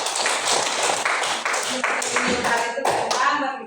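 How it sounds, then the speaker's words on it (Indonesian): A classroom bursts into dense applause for a student, many hands clapping close by for several seconds, with voices mixed in. "Mari kita berikan aplaus buat Anak"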